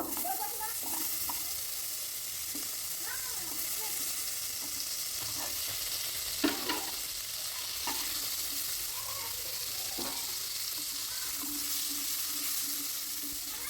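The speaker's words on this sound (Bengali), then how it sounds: "এখন আলুগুলোকেও একদম লাল লাল করে ভেজে নিতে হবে" Potato pieces fry in oil with a continuous broad hissing sizzle at moderate level, while stirring adds soft scraping and someone talks over the frying.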